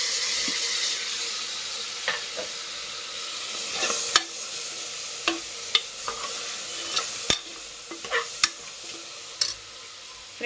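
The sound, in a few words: tomatoes frying and sizzling with spices in a pan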